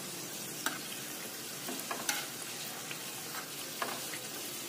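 Karanji frying in hot oil on medium heat give off a steady, soft sizzle, with a few faint clicks and pops scattered through it.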